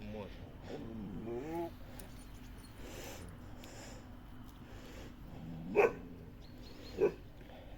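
A dog barks a couple of times at a distance, short sharp yelps under a continuous murmur of talking.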